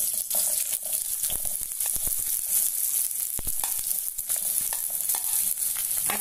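Onion frying in olive oil in a pan makes a steady, loud broadband sizzle. Brief stirring scrapes and clicks break through it now and then, and no one speaks.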